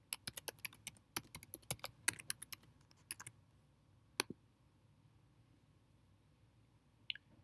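Administrator password being typed on a MacBook keyboard: a quick run of soft, close key clicks for about three seconds, then a single isolated tap and one last light click in near silence.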